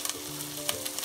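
Bacon sizzling and frying in a dry pan with no oil, for Jalisco-style carne en su jugo, a steady crackle with occasional sharper pops and light stirring, close and alone.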